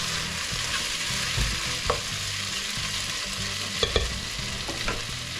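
Onions sizzle steadily as they fry in a pan with browned meat for a meat and potato pie, with soft scraping stirs and a couple of sharper utensil clicks over the continuous hiss.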